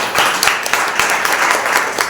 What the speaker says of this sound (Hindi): उनके लिए भी एक जोरदार ताली बजाइए।